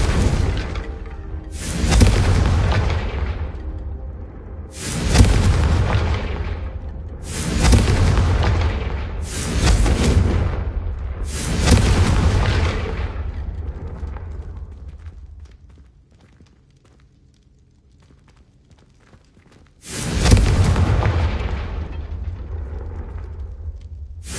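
Fire-spell explosions from the video game Hogwarts Legacy: about six heavy booms burst in quick succession, fade into a quiet pause, then one more loud blast erupts.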